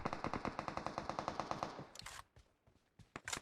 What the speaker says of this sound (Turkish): Damdan da sıkıyorlar.